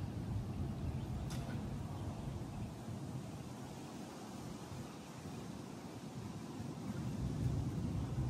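Wind shakes the trees outdoors with a continuous rushing roar, over a low, steady rumble from an airplane somewhere overhead, unbroken for several seconds.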